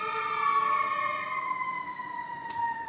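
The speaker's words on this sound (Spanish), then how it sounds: "verás que suenan las alarmas por el barrio, ¿eh? Ambulancias" Ambulance sirens wail through a neighbourhood at a distance, a faint, steady tone sliding slowly downward as it recedes, with a brief click near the end.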